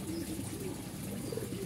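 High-flying homing pigeons coo near their loft, low soft rolling calls repeating close by over a steady background.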